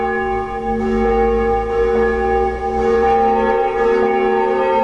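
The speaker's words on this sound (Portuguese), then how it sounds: "Os 3 sinos das torres da Catedral de Lages vieram da Alemanha e são considerados os maiores e mais pesados do mundo" The big, heavy German-made bells in the towers of Lages Cathedral ring together, sustaining a loud, rich chord of layered overtones that hums on continuously without gaps.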